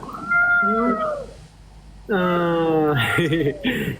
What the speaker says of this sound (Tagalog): Pusa dyan!